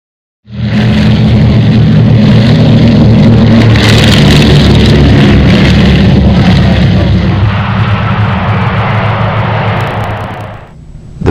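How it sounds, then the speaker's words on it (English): Loud, steady roar of a B-24 Liberator four-engine heavy bomber running its engines, a dense continuous drone that holds for about ten seconds before cutting off abruptly. "B-24 Liberator was the largest four-engine heavy bomber in the U.S. air arsenal."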